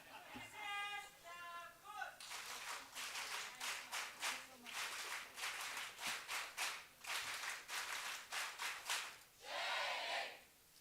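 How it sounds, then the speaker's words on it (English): Audience clapping at a national social work award ceremony for colleges: brisk rhythmic applause bursts that swell and fade across the stretch, following brief speech at the start, moderately close but fairly quiet. "Okay, now we have a format of clapping"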